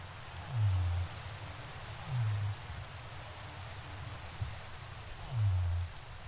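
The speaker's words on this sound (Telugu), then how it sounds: "ఇంకా వర్షం పడుతుంది ఎందుకో నాకు కూడా తెలియదు" Steady rain in the Minecraft video game, a soft even patter throughout, with three or four low swooping tones rising over it at intervals, no talking.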